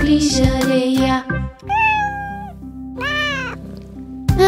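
A small kitten meows two or three times in high, drawn-out cries, close and clear, with musical tones sounding around and between the meows.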